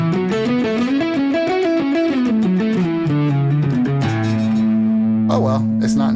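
Electric guitar played through the fuzz pedal model of the TH-U amp simulator, a run of distorted melodic notes sliding downward and ending on sustained buzzing fuzz tones, loud and up front with no talk over it.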